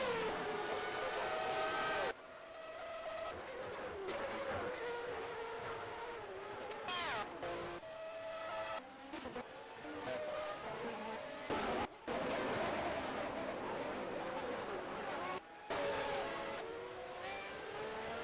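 Race cars in P4OW Manager roar around Interlagos, a steady, loud engine whine with rising and falling pitch and repeated abrupt cuts as the camera switches, under continuous commentary.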